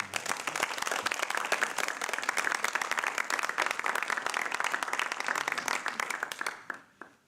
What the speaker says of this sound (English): Join me for an applause.